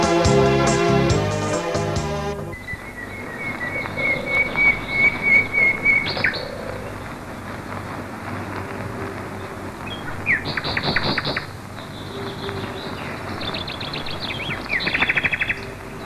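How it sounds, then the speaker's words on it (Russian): Birds chirp and whistle at a morning mountain camp on the Ai-Petri plateau in Crimea, with repeated clear tweets and trills near and far over a quiet background, no talking. "Сладкое пробуждение под пение птичек"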